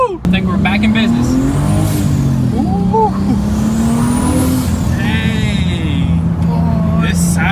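Rebuilt 2023 BMW M3 engine running steadily with a strong low drone that rises and falls slightly as it revs, close and loud throughout, with people talking excitedly over it.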